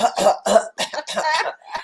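A run of harsh, raspy coughs, several in quick succession with brief gaps, close and fairly loud, with no talking.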